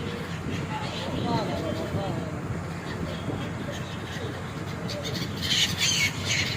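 Birds squawk and call repeatedly around a river vessel heading to Kolkata, their cries rising over a steady engine and water rumble, with a brighter burst of calls near the end.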